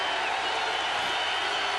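Football stadium crowd at a 1990 Texas A&M at Hawaii game roaring steadily to rally the home defense, a dense, sustained wash of cheering throughout.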